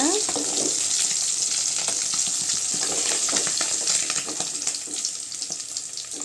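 Sardines frying in a pan fill the scene with a loud, close, continuous crackling sizzle that holds steady before easing slightly toward the end, with no talking.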